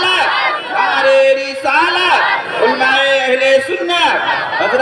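A crowd at a religious gathering roars back chanted slogans in unison, loud voices swelling in repeated waves with sustained shouted tones, filling the space throughout.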